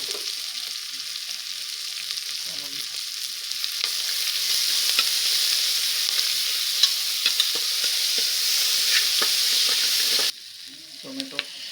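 Ginger garlic paste frying in a pan for a green gram gravy: a steady, close hiss of sizzling with scattered stirring clicks, louder midway and dropping abruptly near the end.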